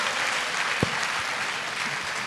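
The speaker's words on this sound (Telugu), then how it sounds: "చప్పట్లు." Audience applause at a public talk, a dense and steady burst of clapping from a hall crowd lasting about two seconds.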